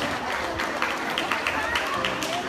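Audience applause for a graduating primary school class at a farewell ceremony, a steady wash of clapping throughout with crowd noise and voices mixed in underneath.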